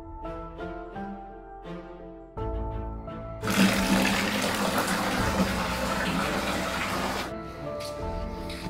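Water gushes loudly from a household tap while clothes are being washed, a steady rushing stream that starts partway through and then cuts off, with some background noise before it.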